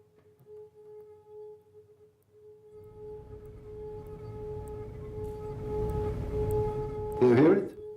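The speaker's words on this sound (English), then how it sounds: "That is the resonance of this glass, the lowest resonance frequency." A wine glass resonating at its lowest natural frequency gives a steady, pure tone close to 440 per second, humming faintly throughout. A rumbling noisy stretch joins it midway, and a sharp burst comes near the end.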